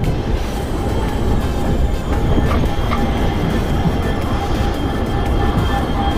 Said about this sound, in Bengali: ডিজেল ট্রেন আর একটা